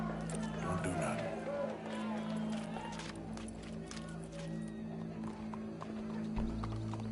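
A horse neighs and hooves clip-clop over a steady droning background, with voices talking on top, from the video game Red Dead Redemption 2.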